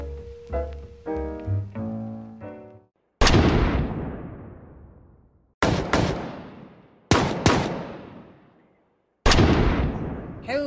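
Several loud, sharp gunshots, each followed by a long echoing decay, fired one or two at a time with gaps between, after brief music at the start.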